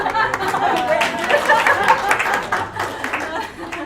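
A crowd applauds, with scattered clapping blending into chatter and a few chuckles, all fairly loud and close.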